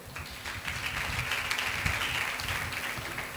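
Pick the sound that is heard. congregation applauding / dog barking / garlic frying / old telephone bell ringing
congregation applauding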